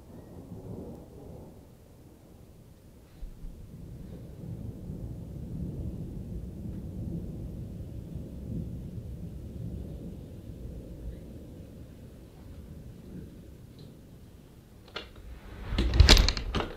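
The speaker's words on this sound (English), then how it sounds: "you could hear the thunder" Deep rolling thunder rumbles steadily through a severe thunderstorm with lightning and hail, a long continuous low roar that builds to a louder crack near the end.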